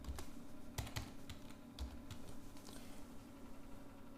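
A computer keyboard is typed on in quick, irregular bursts of close, light key clicks as a password is entered, with short pauses between runs of taps and no talking.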